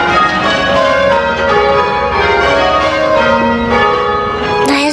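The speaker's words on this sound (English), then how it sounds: "There's Peter's mummy ringing the bells." Church bells rung in rounds by bell ringers pulling ropes, a steady descending sequence of overlapping tolls that rings out continuously and fairly loudly.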